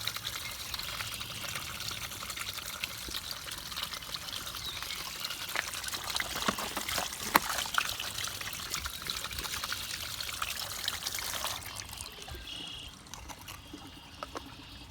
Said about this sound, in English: Cleaning out the pressurized filter for a little bit.